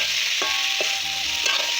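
Chopped tomatoes frying in a pan, a continuous bright sizzle with several soft scraping strokes from stirring, close and steady with no voices.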